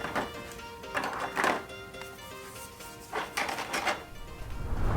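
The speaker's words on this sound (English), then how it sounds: "I'll go ahead and put these other doors back." Plastic battery doors for a PowerA dual charging station for the Xbox Series X being pressed back into place, a few close hollow clicks and thunks spread over a few seconds.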